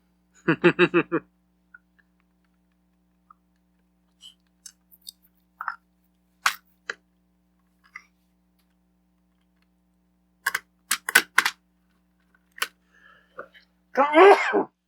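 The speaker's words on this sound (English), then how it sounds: "Sneeze on the channel, excuse me." A single close sneeze bursts out at the start, followed by scattered small taps and clicks from opening game controllers, then a second short sneeze-like burst near the end.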